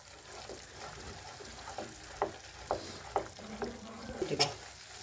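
Millet flour with pieces of edible gum roasting in a hot pan, a soft continuous sizzle under several sharp clicks and scrapes of a spoon against the pan, close up and without speech.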